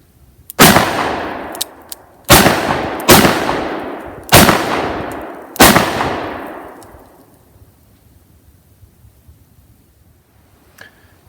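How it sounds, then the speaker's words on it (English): Five sharp, loud revolver shots from a 4-inch S&W Combat Magnum on an outdoor range, fired one after another with short gaps, each cracking out and ringing off before the next, followed by a long fading tail and near quiet. "I'm going to fire 1 shot at the target on the right, 2 shots at the target on the left, and then 3 more shots at the target on the right"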